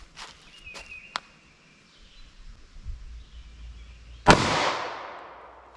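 A single sharp gunshot from a short-barrel .45 ACP pistol loaded with Federal Train + Protect ammunition cracks loudly near the end, trailing into a decaying echo, preceded by a few lighter clicks and taps at an outdoor range.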